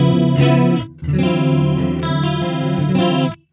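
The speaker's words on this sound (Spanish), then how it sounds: "Que es básicamente un chorus doubler, ¿sí?" Electric guitar played through an Eventide H9 pedal on its Thick preset, a lush chorus-doubler effect, with two sustained strummed chords, a brief gap between them, then a long shimmering ring-out before a sudden stop.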